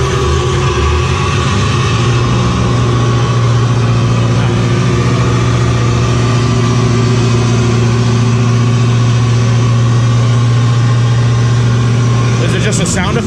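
Generator on a ship running a test aboard the destroyer Laffey in Charleston, a loud steady engine drone with a constant low hum throughout, and voices faintly under it.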